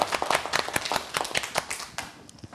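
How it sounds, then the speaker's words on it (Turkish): Small group of kindergarten children clapping in an uneven burst of individual hand claps, moderately close, fading toward the end. "Alkış!"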